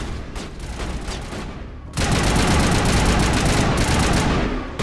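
Gunfire in the video game Mass Effect Legendary: rapid bursts of weapon fire, quieter at first, then a loud, dense, continuous volley that runs to the end.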